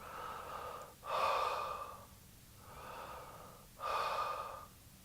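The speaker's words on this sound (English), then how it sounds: "Open your nose, breathe to your throat." Slow breathing in a meditation exercise: long, hissing breaths drawn in and let out in an even rhythm, close and fairly soft, with nasal intakes rising louder, no talking.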